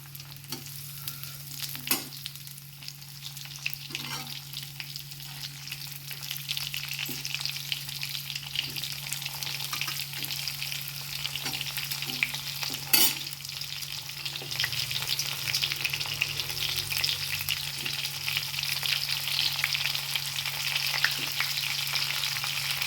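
Bitter gourd frying in a pan makes a steady, close sizzle over a low hum, punctuated by occasional knocks and scrapes of a stirring spoon, lasting throughout without talk.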